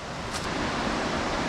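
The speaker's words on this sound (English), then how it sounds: "I can hear the waterfall." A jungle waterfall on Koh Samui, Thailand, gives a steady, close, full-bodied rushing roar with no voices.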